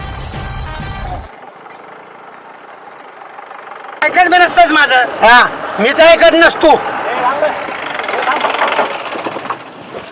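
A vehicle engine idles at a police roadside checkpoint, a steady low hum running through the clip while several people talk loudly over it.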